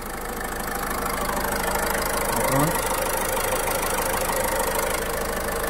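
A 2017 Ford EcoSport Titanium Plus engine idles with a steady, dense hum, fairly loud and unchanging, with no talking over it.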